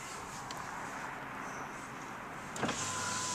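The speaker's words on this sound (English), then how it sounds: "Passenger side front window going up." The front passenger power window on a Mercury Grand Marquis GS with 22k miles hums softly upward, ending in a brief thunk as it closes, with faint road noise underneath.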